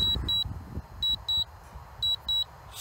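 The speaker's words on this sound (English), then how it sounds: "She's beeping and squeaking all the way home." Short high electronic beeps from a drone in flight, in pairs, repeating about once a second, over low wind-like rumble.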